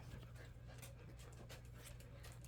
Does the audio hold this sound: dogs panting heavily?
yes